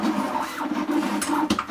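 A printer produces a sticker with a short run of scratchy mechanical whirring and clicks, close and moderately loud.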